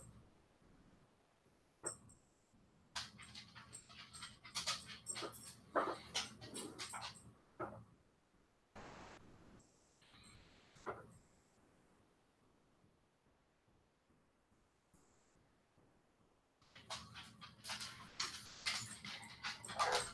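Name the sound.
dogs panting and whimpering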